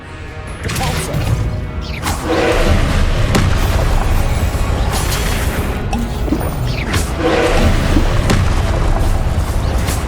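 Confringo fire spell blasts from the Hogwarts Legacy video game on PS5, loud booming explosive impacts recurring across several seconds with crashing debris, dense and continuous with no gaps.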